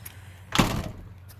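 A single dull thunk of a backyard door in a house, brief and fairly close, followed by a quiet room.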